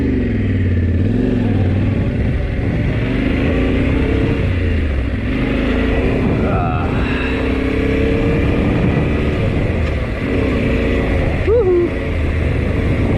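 A Yamaha T7 adventure motorcycle pulls away on a wilderness ride, its engine droning steadily and loud throughout, with rising rev sweeps near the end.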